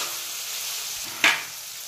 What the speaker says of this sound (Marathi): आता नुसतं भोपळा टाकून घेतला तर चांगला परतून घ्यायचा.